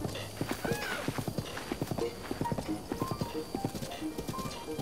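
Horse hooves clip-clop steadily on the ground in Zelda: Breath of the Wild, a quick, even run of close footfalls with an occasional whinny-like tone and light game ambience.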